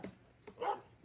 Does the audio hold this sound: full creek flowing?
no